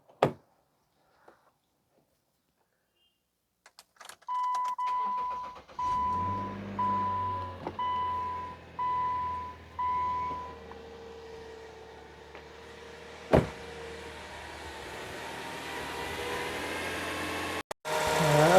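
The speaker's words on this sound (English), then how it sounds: "So we are going to start the vehicle now." A 2010 Subaru Outback with a 3.6 engine gives a series of evenly spaced chimes, then the engine cranks and catches, settling into a low, steady idle with a sharp click partway through and a rising hiss near the end.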